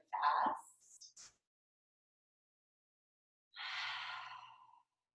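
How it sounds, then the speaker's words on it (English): Two soft open-mouth exhales during a grounding meditation, each a breathy sigh heard up close, separated by a stretch of silence. "You can take open mouth exhales if your heart is beating kind of fast."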